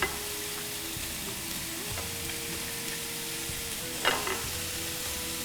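Dalia porridge is stirred in a pan, a faint steady simmer with soft scraping strokes and a brief sharper clink near the end, no voices.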